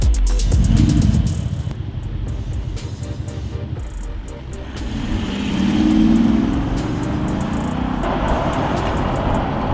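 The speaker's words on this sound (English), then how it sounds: "it's 4-litre V8 diesel, 8-speed automatic, Quattro 4-wheel drive, and it drives beautifully." An Audi ABT SQ7 SUV with a 4-litre V8 diesel, 8-speed automatic and Quattro all-wheel drive is driven, giving a steady low engine and road drone that swells and eases, with a brief voice at one point.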